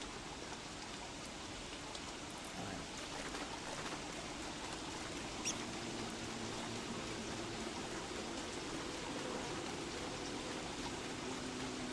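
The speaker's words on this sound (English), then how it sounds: "Look at all this rain." Rainfall in the game Don't Starve Together, a soft, continuous hiss of rain on the ground, faint and even throughout with a single brief tick partway through and no talk.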